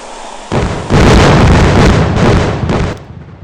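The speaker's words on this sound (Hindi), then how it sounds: "मुझे आखिरी ये ब्लास्ट करने दो" Loud explosions boom in the Indian Bike Driving 3D video game, one blast after another with a long roaring burst in the middle before fading, close and heavy with no talk.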